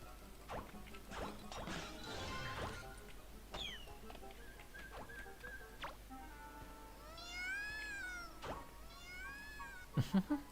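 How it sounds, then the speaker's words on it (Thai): A cartoon cat meows in the Tom and Jerry Chase mobile game, with rising and falling mewing cries amid game effects, clicks and a few sharp hits near the end. "เหมียวเหมียว"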